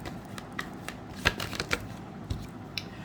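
Tarot cards are shuffled by hand in a run of soft, quick riffling flicks and taps, close and fairly quiet, with no one speaking over them.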